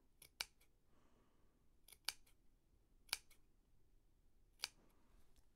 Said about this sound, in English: at each end, I'm just going to cut some tiny little fringe